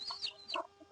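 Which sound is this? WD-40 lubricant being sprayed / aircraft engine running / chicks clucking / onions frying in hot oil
chicks clucking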